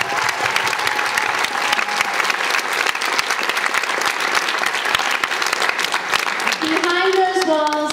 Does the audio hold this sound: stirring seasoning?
no